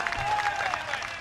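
An audience at a mushaira poetry gathering in Govandi claps in a steady, dense wash of applause, close and even throughout.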